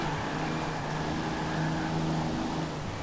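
A Toyota Supra with pop-up headlights races in Forza Horizon 4, its engine giving a steady, humming drone with a slight swell in the middle and no talk over it.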